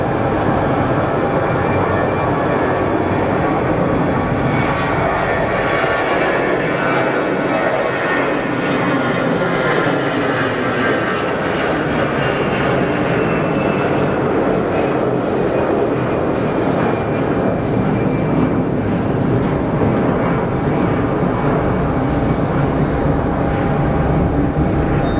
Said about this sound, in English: It's a Pilatus. Phenom 300 or a Pilatus.